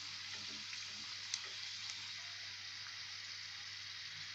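Street-style egg mughlai paratha frying in hot oil gives a steady, close, bright sizzle that never lets up, with a single small pop partway through.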